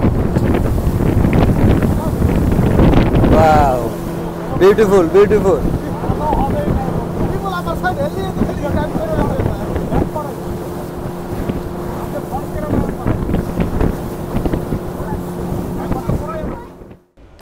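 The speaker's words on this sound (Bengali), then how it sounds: "আমরা স্পিডবোট রাইডটি শেষ করলাম" A speedboat rides across the water at a park, its engine droning steadily with wind rushing over the microphone, while people talk and exclaim over it.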